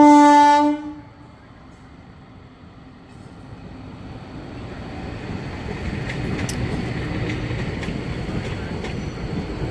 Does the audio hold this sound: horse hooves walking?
no